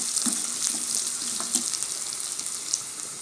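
Finely chopped onions fry in a pan for a red amaranth and moong dal koottu, giving a steady sizzle with crackling pops and light stirring scrapes, close and clear.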